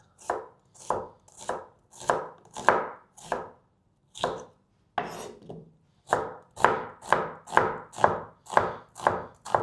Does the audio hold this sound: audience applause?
no